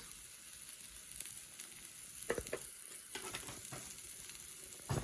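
Turmeric stirred into Bengali-style chowmein frying in a pan, a continuous bright sizzle with a few sharp scraping strokes of the spatula, up close and without talk.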